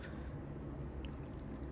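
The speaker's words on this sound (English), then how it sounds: "now I'm just gonna pour in the buffer solution that I had remaining" Leftover buffer solution is poured into a gel electrophoresis box, a soft continuous trickling and dripping of liquid, close and faint, with no voices.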